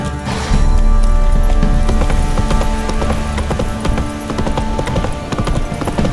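A horse gallops in The Witcher 3 video game, with loud rapid hoofbeats in a driving rhythm that carry on steadily throughout, close and dense, with no talking.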